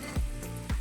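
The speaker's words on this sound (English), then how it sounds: "the whole purpose of letting this simmer for a bit is to" A thickening seasoning base reduces in a cast iron pan, with a low, close bubbling simmer marked by two soft thumps or stirs, and no voices.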